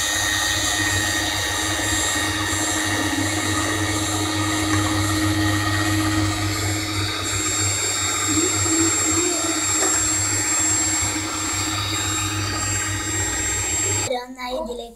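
Electric hand mixer beating butter and sugar for rainbow cupcakes in a home kitchen, a steady loud motor whir running almost without a break before cutting off near the end.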